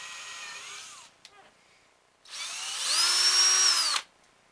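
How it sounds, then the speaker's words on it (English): A power drill with a 3/16 inch bit bores slowly into a clamped plastic end cap, two loud close bursts of whining motor, the second rising in pitch and longer, with a short pause between. "But then you just slowly drill it."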